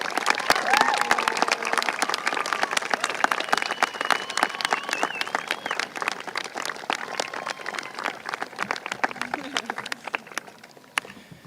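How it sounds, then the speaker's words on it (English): Crowd at a high school graduation ceremony applauds and cheers for the graduates' supporters, sharp scattered claps dense at first and thinning toward the end, with shouts and voices mixed in. "Stand and give a big shout out and round of applause to these people."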